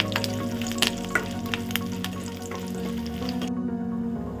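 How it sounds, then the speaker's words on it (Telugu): Oil sizzles and crackles steadily, with sharp pops of tempering spices and dried red chillies frying close by, no voices. "తాలింపు వేగిందండి"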